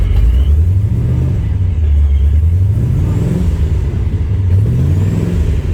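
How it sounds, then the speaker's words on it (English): A supercharged V8 engine in a Corvette idles and rumbles steadily, with a low wavering drone and a faint ticking hiss from an exhaust leak. "Sounds like we got an exhaust leak somewhere in here"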